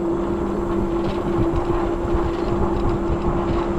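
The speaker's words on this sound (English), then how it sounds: "You can hear the sides rattling when you go by." Bicycle wheels roll over a long trail bridge, and its side rails rattle in a steady, dense clatter under a constant hum.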